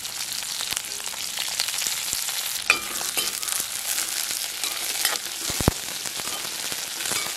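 Green chillies and curry leaves sizzle and crackle in hot oil during tempering for a brinjal curry, giving a steady, close frying hiss with scattered sharp pops and no talking.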